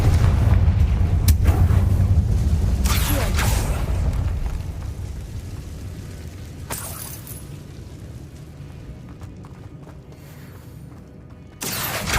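A Confringo fire spell bursts in a decayed catacomb in Hogwarts Legacy, a loud booming blast followed by scattered sharp cracks and crackling debris, with further bursts and a final impact near the end.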